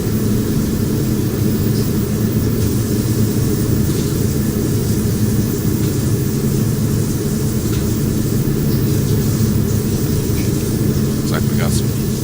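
Steady droning cabin hum of a Beechcraft King Air 350i turboprop cruising in Flight Simulator X, a continuous loud engine and propeller rumble throughout, with a voice talking over it.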